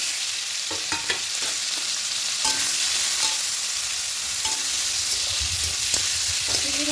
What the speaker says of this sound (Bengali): কড়াইতে সরষের তেল দিয়ে বসে দিয়েছিলাম তেলটা গরম হয়ে গেছে এবার চিংড়ি মাছগুলো দিয়ে দেব